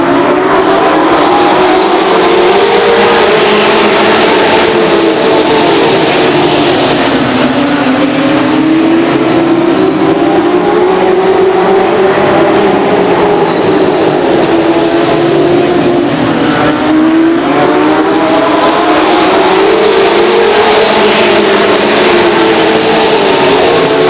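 A field of race cars runs at Lake Geneva Raceway, with loud engines droning and rising and falling in pitch as the cars circle the track, continuous and close with no talking.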